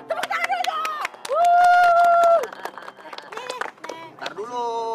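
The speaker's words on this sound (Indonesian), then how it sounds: "Tepuk tangan dulu dong!" Audience members clap their hands on an Indonesian TV comedy show, a scattered run of sharp, irregular claps close by, mixed under loud voices and a long drawn-out shouted vowel.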